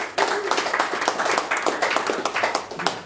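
Church congregation clapping and cheering for Jesus, a burst of quick, dense hand claps starting abruptly and continuing in an irregular rhythm, close and lively, with faint voices mixed in.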